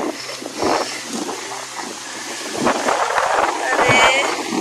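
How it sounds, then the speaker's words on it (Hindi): A strong, cold wind blows in a steady, loud roar of broadband rushing that swells around the middle and end, with brief vocal sounds over it. "ओह ये आई खूब ठंडी तेज हवा।"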